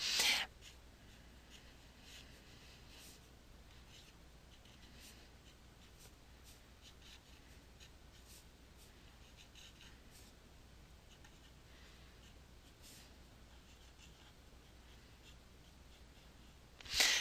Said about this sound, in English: I took a minute to write it down without saying anything so that I wouldn't get the formula down incorrectly